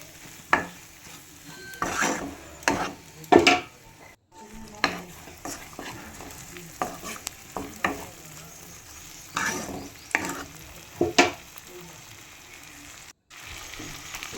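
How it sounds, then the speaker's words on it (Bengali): Chopped tomato being stirred in a frying pan while cooking a prawn malai curry, with a sizzling bed broken by repeated scraping strokes of a spatula against the pan, irregular and fairly close, no talk. "এবার টমেটো কুচি এর মধ্যে অ্যাড করে দিচ্ছি। ভালো করে নেড়ে নিচ্ছি।"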